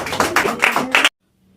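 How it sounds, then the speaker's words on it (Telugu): A single person claps hands rapidly, about eight sharp claps in a quick steady run, close and loud, then stops abruptly into silence. "ఏంటి అదే చప్పట్లు కొట్టుకుంటా నవ్వుకుంటుంది."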